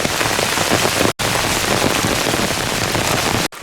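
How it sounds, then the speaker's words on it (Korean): Heavy rain pours down on a steep mountain trail to a peak in Hongcheon, a loud, dense, continuous patter close around the listener, broken only by two very brief dropouts. "가칠봉이다 올라가는데 비가 상당히 많이 와요."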